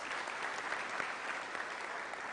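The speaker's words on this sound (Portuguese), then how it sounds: "Palmas para ele." An audience bursts into steady applause, a dense wash of many hands clapping evenly throughout, moderately close and unbroken by speech.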